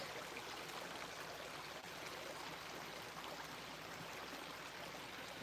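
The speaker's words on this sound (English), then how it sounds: "that's the creek" A mountain creek flows in a steady, even rush of water that stays constant and fairly faint throughout, with no voices over it.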